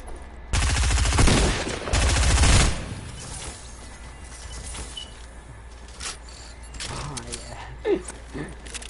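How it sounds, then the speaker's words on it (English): A minigun fires in a PS4 video game, letting out two loud, sustained roaring bursts of rapid fire. Quieter game noise and scattered voices follow. "They had a minigun."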